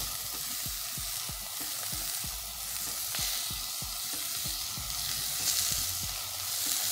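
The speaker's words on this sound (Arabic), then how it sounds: "هعمله هسويه على النار نص سوا، وهدخله بعد كده الفرن" Meat sizzling and frying in a pot on the stove while being half-cooked before going into the oven, a continuous loud crackle broken by frequent sharp pops, with no talking.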